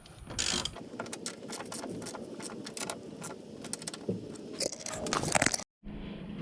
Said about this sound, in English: Now I'm going to tighten the bolts on the top of the coilover